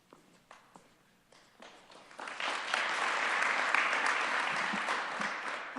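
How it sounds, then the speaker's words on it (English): Applause from an audience at an Olds College event, starting as a few scattered claps and swelling into sustained, fairly distant clapping that fills the room for several seconds. "Applause before, that's a new one."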